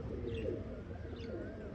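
Low cooing from pigeons in a loft, a soft rolling murmur with a couple of faint chirps, nearby and steady under a low background rumble.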